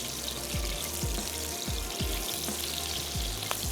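Steady sizzling of garlic ginger paste frying in hot oil with yogurt, salt and green chillies, a dense constant crackle with faint low thumps recurring at a regular pace underneath.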